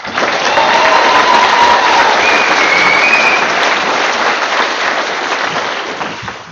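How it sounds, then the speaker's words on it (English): A round of applause at a high school graduation ceremony in a large hall, loud sustained clapping from a big crowd that holds steady and then slowly tapers near the end. "Can we please give him a round of applause?"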